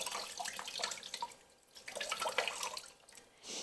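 Water drips and trickles from a squeezed cloth holding beeswax cappings, a close, wet patter in uneven bursts with brief lulls.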